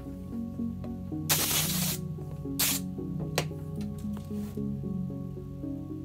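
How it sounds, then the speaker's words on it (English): An air compressor nozzle blowing excess flock powder out of a box, giving several sharp bursts of hissing air over a steady humming machine background. "I'm just using a compressor to spray out the rest of the excess powder that was inside the box."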